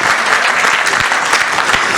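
Audience at a Haryanvi comic poetry recital clapping, a loud close burst of dense hand claps with a few sharper individual claps standing out.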